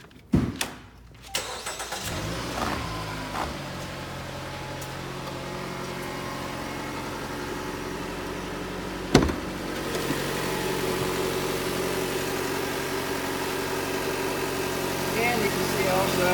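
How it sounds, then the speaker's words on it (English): A 2016 Jeep Cherokee with a 2.4-liter four-cylinder engine cranks and catches after a brief starter whir, then settles into a steady, close idle hum, with a sharp knock partway through. "I'm going to go ahead and start the engine"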